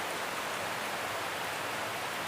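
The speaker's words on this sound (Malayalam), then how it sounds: "നല്ല മഴ പെയ്യുന്നുണ്ട്" A dense, steady hiss of heavy rain pours down without pause, a uniform roar filling the air.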